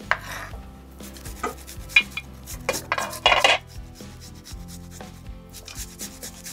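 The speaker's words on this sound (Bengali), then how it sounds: "আমি কি কড়াইটা বসিয়ে দেবো?" A metal wok (kadai) is set on a home stove before frying boal fish Barishal style, giving a few close scraping and clanking knocks of metal on metal, with no one talking.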